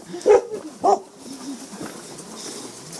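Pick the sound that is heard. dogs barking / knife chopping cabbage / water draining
dogs barking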